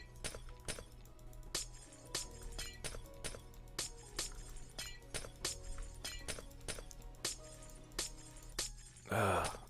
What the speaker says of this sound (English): So what I want to do is first get rid of all this glass.